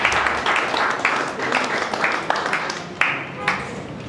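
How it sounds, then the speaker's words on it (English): An audience at a Nigerian media and banking event gives a steady round of applause, dense clapping from many hands filling the room, with some voices underneath. "a round of applause for"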